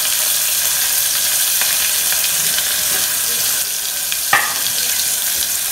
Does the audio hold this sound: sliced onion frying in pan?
yes